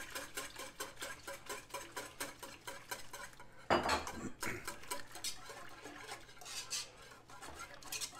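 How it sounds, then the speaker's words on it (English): A whisk clicks and scrapes rapidly against the sides of a pot while beating an egg mixture, a quiet rhythmic metallic tapping with one brief louder clatter partway through. "Now, we're going to keep whisking."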